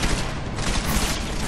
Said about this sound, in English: Wow, look at the flashbang